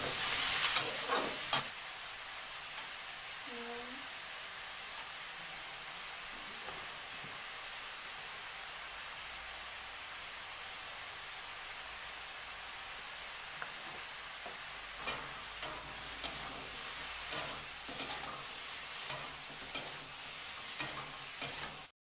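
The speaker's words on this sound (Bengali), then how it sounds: "দিয়ে কিন্তু লাল লাল করে ভেজে নেব আলুটা" Potatoes frying in oil with onion, chili and garlic in a wok, a steady low sizzle with occasional spatula clinks and scrapes, busier stirring in the final stretch.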